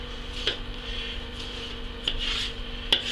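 A butcher's knife working through a pork shoulder along the natural seams, giving soft scraping rubs with a few sharper scrapes and light clicks against the board, close up with no talk.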